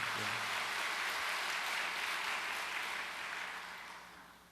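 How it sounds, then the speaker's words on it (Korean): A church congregation applauds in steady, even clapping that holds for several seconds and then gradually fades away toward the end. "우리 다시 한번 감사의 박수 올려드리시죠"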